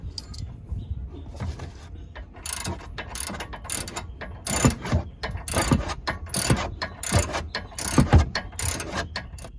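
Ratchet wrench tightening bolts with 19mm and 6mm Allen fittings on APEX Designs AutoLYNX sway bar disconnects on a 2023 Jeep Wrangler JL, giving rapid bursts of close metallic clicking, repeated in several runs with short pauses between.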